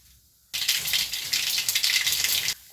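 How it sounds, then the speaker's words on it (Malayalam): Mustard seeds crackle and pop in hot coconut oil for a Kerala fish curry, a dense, steady spatter that starts abruptly, runs for about two seconds, then cuts off into quiet. "കടുക് ഒന്ന് പൊട്ടട്ടെ."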